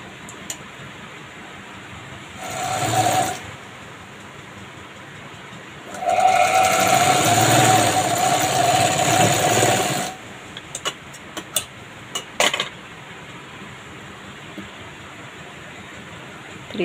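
A sewing machine stitches a strip onto a blouse, first in a short run and then in a steadier whirring run of about four seconds, close and moderately loud, followed by a few faint clicks.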